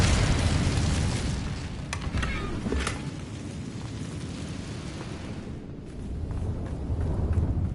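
Incendio fire spell cast in Hogwarts Legacy, a loud roaring whoosh of flame with crackling bursts, swelling at the start, easing through the middle and rising again at the end.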